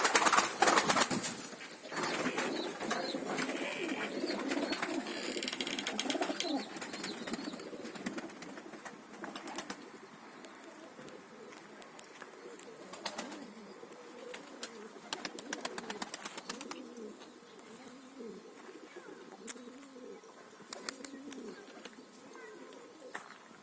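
A male pigeon, father of the chicks, coos repeatedly among other birds in an aviary. The calls are close and moderately loud, with some flapping and background chirps.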